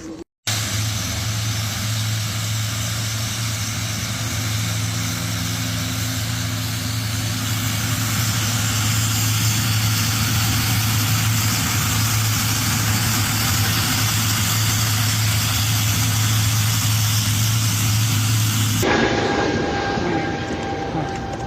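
An airplane engine running steadily on the ground with a loud, constant drone and a strong low hum, nearby, holding level for about nineteen seconds before cutting off abruptly.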